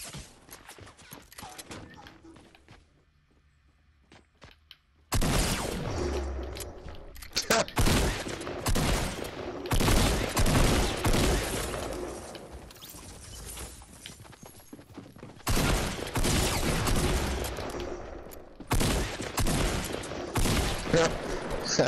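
Dense, loud bursts of gunfire from a Fortnite Battle Royale match, rapid overlapping shots after a quieter opening, with footsteps and game effects mixed in.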